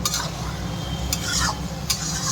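Cooked eggplant being mashed and mixed into bhorta in a pan, with a steady soft scraping and squishing texture and a few sharper utensil scrapes against the metal, close by and continuous, no voices.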